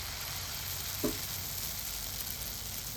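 Bengali sokroli pitha fries in a small amount of hot oil, giving a steady, quiet sizzle and crackle throughout with one brief soft stir or tap.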